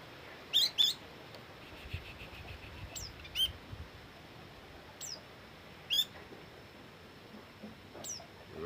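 Short bright chirps from a pleci (white-eye) bird come in scattered bursts, a few close together, over a steady hiss of background noise with no voices.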